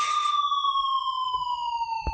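A police car siren sounds loud and close, sweeping in a long, smooth downward wail, with a few dull thumps in the background.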